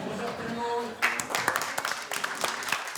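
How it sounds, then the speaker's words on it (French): A crowd in Châtillon-sur-Loire applauds the re-elected mayor, who recovered from Covid-19. Brisk, close clapping breaks out after a brief voice and continues in uneven bursts. "Des applaudissements pour le maire."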